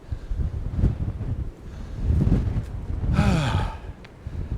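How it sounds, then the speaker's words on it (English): Strong wind gusting across an open farm, buffeting the microphone in rough, uneven bursts with a brief higher rushing flurry, no talk. "all of a sudden, the wind just picked up. That's gone quite strong,"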